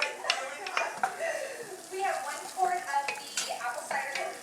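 Minced garlic sizzles in a hot pan, with a steady crackle, scraping utensil strokes and light clinks of metal, close up and under soft talk.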